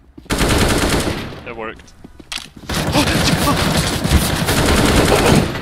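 Rapid automatic gunfire from a shooter video game, loud and close, bursting in sustained volleys with a brief lull before firing resumes; a voice speaks briefly during the shooting.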